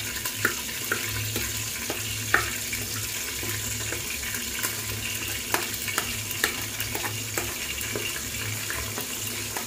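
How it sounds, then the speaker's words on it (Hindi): Onions browning in a pot with cumin, garam masala, cloves and cardamom for mutton biryani, giving a steady close sizzle broken by light scraping stirs. "प्याज गर्म हो चुकी है यानी कि ऑनियन हमारी ब्राउन हो चुकी है।"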